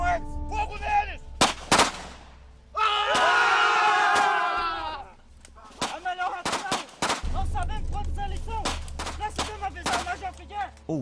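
A battle reenactment of the Battle of Jenipapo in Piauí brings sharp, loud gunshots and cannon-like blasts scattered through the scene, mixed with shouting crowds and battle cries.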